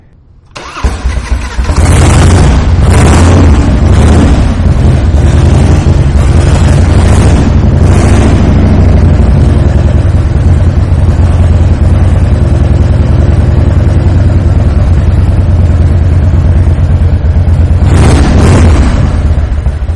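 A 1994 Harley-Davidson Softail Heritage Nostalgia with a carbureted engine and Samson exhaust cranks and fires up on a cold start, then settles into a loud, throbbing idle close by, with a few revs near the start and end.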